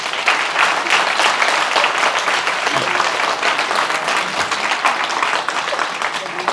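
Audience applause at a climate change talk in Indore, a steady dense wash of many hands clapping throughout, loud and close, with no break.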